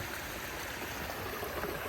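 A small stream flows steadily beside a hiking trail near a footbridge, a constant even rush of water with no voices.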